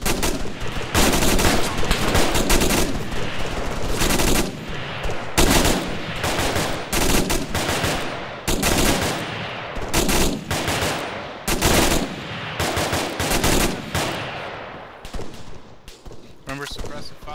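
Bursts of rapid automatic rifle fire and single shots crack loudly and repeatedly during an Arma military simulation assault, with short pauses between volleys and voices of a squad speaking over the shooting.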